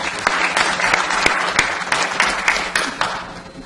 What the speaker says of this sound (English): So I think they deserve another round of applause for coming out